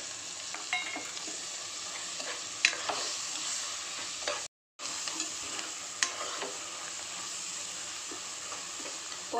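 Ingredients for a fenugreek curry sauté in hot oil with a steady soft sizzle and occasional clicks of a stirring spoon against the pan, broken by a brief moment of silence midway.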